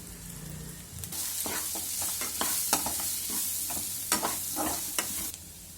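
Onions sizzle steadily in a hot pan with chilli powder, salt, turmeric and garam masala, with scraping and clattering of a spatula stirring through the crackle.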